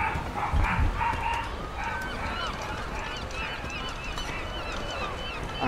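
Dogs bark in Ruined King, repeated honking barks over a busy game soundscape, loud and continuous with some clattering in the background.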